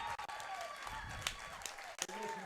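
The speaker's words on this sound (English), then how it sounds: "great round of applause by the crowd" Crowd applause at a playoff baseball game, a continuous background of clapping in a ballpark with some talk and brief knocks over it.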